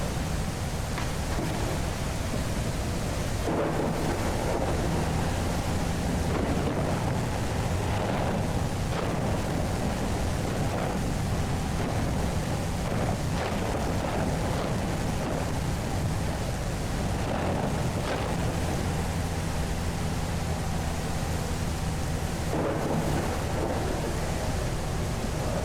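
Heavy rain pours without pause during a thunderstorm in the survival game Mist Survival, broken by several deep booming thunderclaps spread across the stretch.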